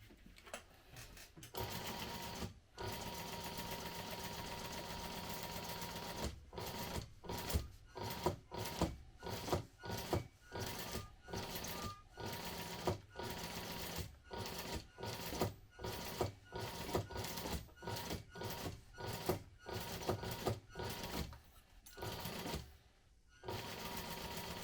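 A sewing machine stitches a crossbody bag at a one-eighth inch seam, running in repeated whirring bursts broken by brief pauses, close and fairly quiet, with no talking.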